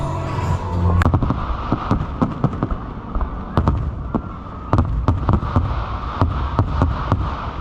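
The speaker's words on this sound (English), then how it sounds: "We're gonna watch the fireworks" Fourth of July fireworks at LEGOLAND New York crackle and bang in rapid irregular bursts, a dense run of sharp reports over a constant rumbling wash of sound.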